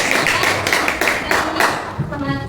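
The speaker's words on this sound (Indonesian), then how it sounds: "Berikan tepuk tangan untuk kelompok 2." Students in a vocational high school math classroom clap for a group, a loose burst of several hand claps that rings close and fairly loud, with voices briefly heard near the end.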